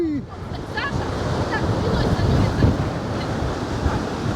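Gale-force wind roars across the Paphos seafront with stormy sea waves crashing below, a loud, continuous buffeting rush with heavy wind noise on the microphone and surging surf throughout.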